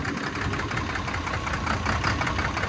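A Chinese-made tractor engine idles nearby after heavy ploughing with a steady, rhythmic chugging rumble, loud and constant throughout, no voices.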